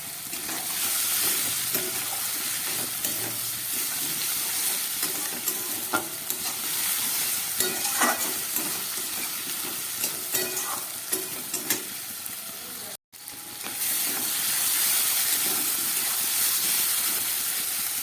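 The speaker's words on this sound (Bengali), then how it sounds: "আলু, পেঁয়াজ, টমেটোটা অনেকটাই ভাজা হয়ে গেছে।" Potato, onion and tomato fry in a pan with a loud, continuous close sizzle and hiss, scattered scraping stir sounds, and a brief dropout near the end before the frying resumes.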